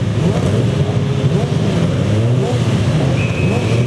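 Saloon and sports cars roar together on the grid at the start of a race at Oulton Park in 2011, a dense, loud, continuous engine drone with a commentator talking over it.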